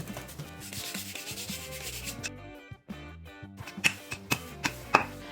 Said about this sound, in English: Now we want to spread our dough into a rectangle